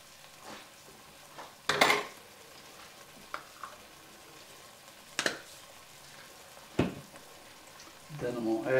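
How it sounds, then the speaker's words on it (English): Minced garlic frying in a pot of pinto bean soup base, a faint, low sizzle running under several sharp clinks of a spoon against the pot, ending with a louder burst of frying. "I'm going to add 3 spoonsful of minced garlic"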